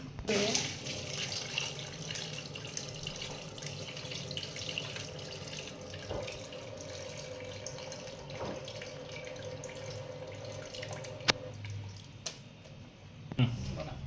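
Hot water runs steadily into a cooking pot of crab curry, a continuous splashing pour with a few sharp clinks, fairly close and moderately quiet.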